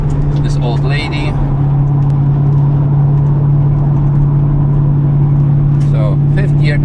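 Steady engine drone from a Porsche 928 cruising uphill in fifth gear on the Nürburgring, heard from inside as a constant hum with faint brief voice sounds over it.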